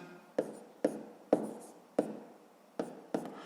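A pen taps and scratches numbers onto paper during a fifth-grade multiplication exercise, six sharp, close strokes spaced about half a second apart in a quiet room.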